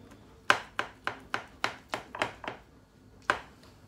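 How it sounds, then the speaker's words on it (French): A slice is being cut from a gluten-free cherry clafoutis: a series of eight sharp, close knocks of a utensil against a plate or dish at an irregular rhythm, then a pause and one final knock, with no talking. "on va se couper une petite part"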